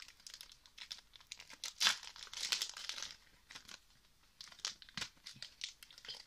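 Plastic wrapping on a sealed package of manga cards crinkles and tears close by in irregular bursts, louder in the middle, with no voices.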